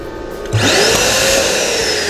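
An electric balloon inflator machine switches on abruptly and runs as a loud, steady whirring motor blowing up 5-inch Caribbean blue balloons, with no voices over it.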